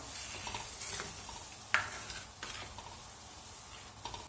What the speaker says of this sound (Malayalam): ഇപ്പൊ ഇതാ നമ്മുടെ കറി നന്നായിട്ട് തിളച്ചു തുടങ്ങിയിട്ടുണ്ട്.